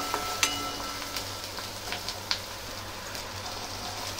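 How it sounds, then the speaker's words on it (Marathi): Chopped onion frying in a pan for a spicy mung bean curry, a soft steady sizzle with faint crackles and a few light clicks, alone and fairly quiet. "कांदा चिरून घेतलेला, छान फ्राय करून घेणार आहोत।"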